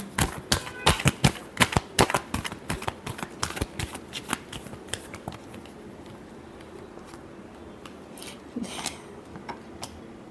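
A deck of tarot cards being shuffled by hand, a rapid run of crisp riffling flicks that thins out into sparser taps and slides, close and fairly quiet, with no talking.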